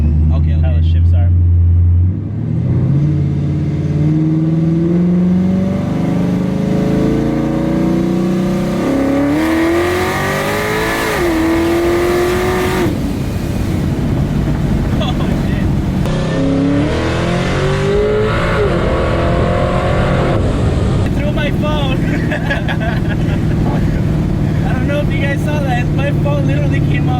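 A procharged Chevy SS V8 pulls hard under acceleration, its loud engine note climbing steadily through several rising sweeps with clear shift breaks between gears, heard from inside the car with continuous road and engine roar throughout.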